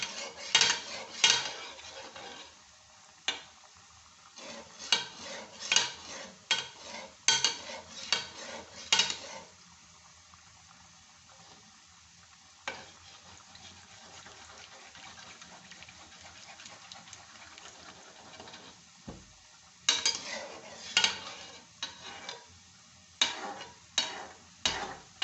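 A spoon stirs and clinks against a pan of bread gulab jamun frying over a medium flame, giving bursts of scraping and tapping with quieter gaps of soft bubbling in between.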